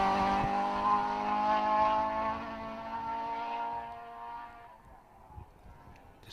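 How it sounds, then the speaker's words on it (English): A rally car accelerates away along a stage at the West Cork Rally, its engine note loud at first and then fading steadily into the distance. "Just hear the car accelerating off into the distance."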